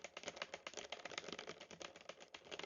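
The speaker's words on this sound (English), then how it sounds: "I also went in post and I did keyboard clacking sound effects" Keyboard clacking sound effects added in editing, a fast, steady patter of crisp key clicks with no pauses, faint and close.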